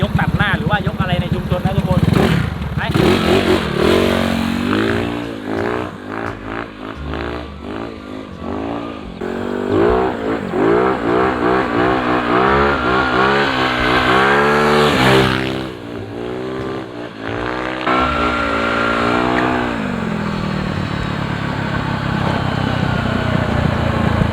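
A motorcycle exhaust drones steadily while riding, with engine pitch rising and falling as it revs, and someone talks over it nearly throughout.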